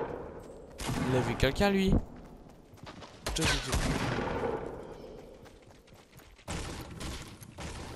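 Short bursts of pistol gunfire in a Fortnite match, clustered loud volleys separated by quieter stretches, with someone speaking French over the action.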